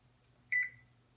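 A single electronic oven beep, clear and close, rings out once over a low steady kitchen hum while the oven timer is being set for baking Hershey's crinkle cookies.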